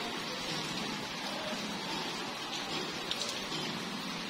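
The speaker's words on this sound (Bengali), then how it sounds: "কি সুন্দর বৃষ্টি, গাছপালার উপর বৃষ্টি পড়ছে" Rain falling steadily on trees outdoors, a dense, even wash of pattering drops with no voices.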